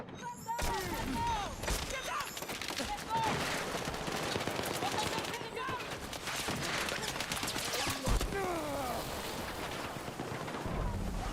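Gunfire in Battlefield 6 multiplayer, a dense, continuous clatter of automatic weapons and scattered shots over loud wind and battle ambience, close and sustained throughout.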